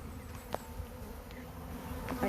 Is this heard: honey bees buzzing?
yes